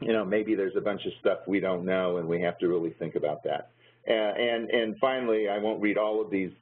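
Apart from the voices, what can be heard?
No distinct noise like a dog, phone or traffic.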